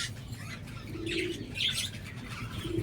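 Several birds coo and chirp softly close by, overlapping calls with a faint rustle of wings against a quiet background hum.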